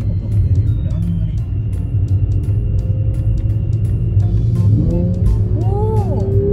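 Mercedes-AMG GT 4-door coupe engine in sport mode, a loud low rumbling drone that rises toward the end as revs climb, with people talking over it inside the car.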